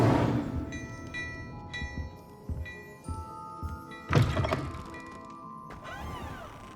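The Incendio fire spell cast in Hogwarts Legacy: a whooshing magical burst with a crackling impact partway through, layered over chiming tonal game effects and a low ambient bed, no speech.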